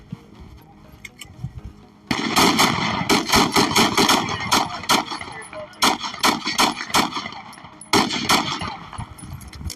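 Gunfire during an officer-involved shooting in which an officer fires a rifle through a windshield: a sudden, loud, close volley of rapid shots in bursts lasting several seconds, with faint voices around them.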